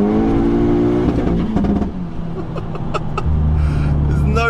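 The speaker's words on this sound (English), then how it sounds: "It's a four-cylinder engine, 2-litre, single turbo" Edition 30 Golf with a 2-litre single-turbo four-cylinder accelerating hard in third gear, a loud rising engine drone heard from inside the car, sustained across the whole stretch with a brief dip in the middle.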